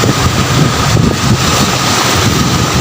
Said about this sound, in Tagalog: malakas na hangin, kaya umaapaw yung dagat dito sa pier.